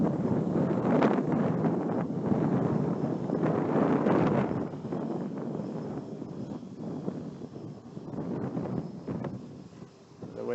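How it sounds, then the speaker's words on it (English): Strong wind buffeting a microphone outdoors during a quadcopter flight, a loud continuous rumbling roar that surges for the first few seconds, then eases slightly while gusting on, with no voices. "The wind is blowing extremely hard"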